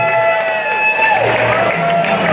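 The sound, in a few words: audience round of applause at closing ceremony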